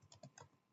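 Keys clatter on a computer keyboard in a short burst of four or five quick taps, close and fairly quiet, ending on one harder keystroke.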